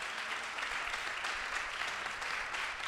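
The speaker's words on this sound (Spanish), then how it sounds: "un aplauso para este formato, este concepto curvy, muy merecido" An audience applauds at a curvy fashion model event, the dense, steady clapping sustained evenly throughout with no voices rising above it.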